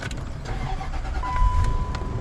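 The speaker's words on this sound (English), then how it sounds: "Now this car is started." A 2004 Range Rover that previously would not start turns over and fires up with a steering lock emulator plugged in, a broad mechanical rumble swelling midway while a steady electronic chime tone runs through the last half.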